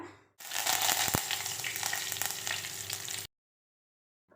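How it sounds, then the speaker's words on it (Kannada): Loud, crackling sizzle of mustard seeds and curry leaves frying in hot oil, close up, lasting a few seconds before cutting off abruptly. "ಇವಾಗ ಆಯಿಲಲ್ಲಿ ನಾನು ಕರಿಬೇವನ್ನ ಹಾಕಿದ್ದೀನಿ ಆ್ಯಂಡ್ ಸಾಸ್ಮೆನ ಹಾಕಿದ್ದೀನಿ"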